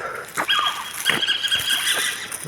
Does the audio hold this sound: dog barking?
yes